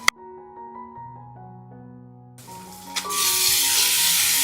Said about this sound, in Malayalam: ഇനി ഇതിലേക്ക് നമുക്ക് കഴുകി വൃത്തിയാക്കി എടുത്ത 1 കിലോ ചിക്കൻ കഷ്ണങ്ങൾ ഇതിലേക്ക് അങ്ങ് ചേർത്ത് കൊടുക്കാം